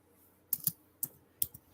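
Quiet clatter of computer keyboard keys in three short bursts of a few strokes each, with gaps between them and no talking.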